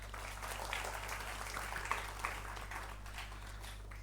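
Faint, distant clapping from a lecture audience welcoming a speaker at a Doctors Day popular science talk, thin scattered claps over a steady electrical hum for a few seconds.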